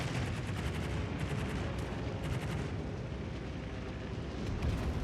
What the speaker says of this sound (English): Monarch gets off a shot over the corner of the island.